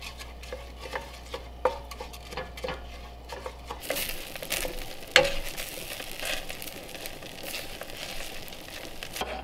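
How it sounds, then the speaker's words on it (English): White rice sautéing in melted butter in a pan, a soft steady sizzle with occasional stirring scrapes and a sharp utensil clink partway through, close and fairly quiet. "I just added 1 cup of white rice in here, so I'm just gonna saute that up in my butter"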